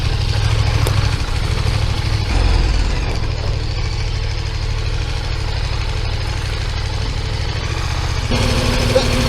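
A KTM 1390 Super Duke motorcycle engine running steadily, a loud continuous low rumble with wind noise throughout, shifting slightly in tone near the end.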